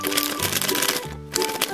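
A Mini Mini Thomas 3 blind bag is torn open, close crinkling plastic rustles and quick tearing sounds in a short busy burst, with a brief pause midway.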